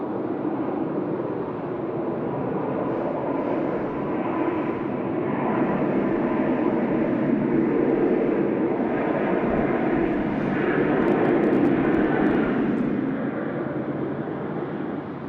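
At Sydney Airport, an airliner lines up on the runway, its jet engines giving a steady, moderately distant roar that swells slightly midway and holds without pause.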